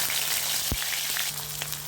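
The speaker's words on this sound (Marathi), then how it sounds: "कढईत आता कांदा घालणार आहे" Onion hits hot oil in a kadhai with a steady, close sizzle, broken by one sharp clatter partway through.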